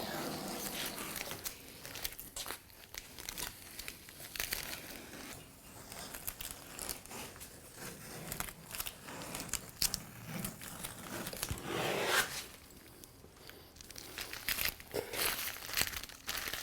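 Masking tape peeled off the freshly painted white and Spartan Red hull of a wooden V-bottom skiff, giving close, continuous crinkling and tearing rips that swell and fade, with no talking.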